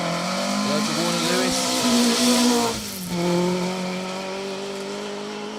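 A Mark 1 rally car pushes hard along a special stage on the Border Counties Rally, its engine loud and close with steady harmonic drone, a brief lift and dip near the middle before pulling again, with a commentator talking over it.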